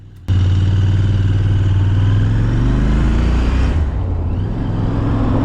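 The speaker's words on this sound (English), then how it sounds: "I jumped straight onto the Continental GT and followed pretty much the same route" A Royal Enfield Continental GT 650 motorcycle riding on the road, its engine a steady, loud, continuous drone close to the microphone with wind rush, a slight shift in tone partway through.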